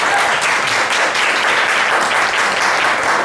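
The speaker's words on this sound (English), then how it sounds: "But it's so good, everybody's clapping." A product-management conference audience applauds, dense, continuous clapping from many hands, loud and even for the whole stretch with no talk over it.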